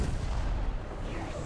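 A tank cannon fires in War Thunder with a single heavy, booming blast that fills the whole short moment. It is loud and close, and no voices are present.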